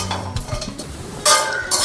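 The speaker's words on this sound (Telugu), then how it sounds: "సో ఫస్ట్ మనము ఎండు కొబ్బరి ఫ్రై చేసుకుందాం" Dried coconut frying in a pan, with spoon stirring and scraping, light clinks against metal, and bursts of sizzle growing louder in the last second, close and without voices.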